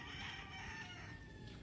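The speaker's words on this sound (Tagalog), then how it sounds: "May manok dito" Chickens on a chicken farm in the Philippines, a steady layer of clucking and crowing from a flock at middle distance, continuous over a faint background hum.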